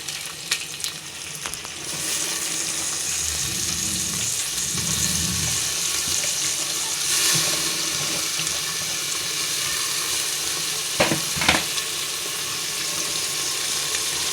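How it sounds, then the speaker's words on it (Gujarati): Vegetables frying in oil tempered with mustard seeds and cumin, a steady close sizzle running throughout with brief stirring knocks and a couple of sharper clatters near the end. "આપણે રાઈ જીરાનો વઘાર કરી નાખીશું. આપણે જો બધું શાકભાજી નાખી દીધું છે."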